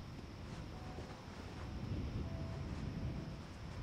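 Outdoor wind effect in the video game Marvel's Avengers (beta): a steady, broad rushing gust with a low rumble that swells slightly partway through, continuous and fairly quiet, no voices.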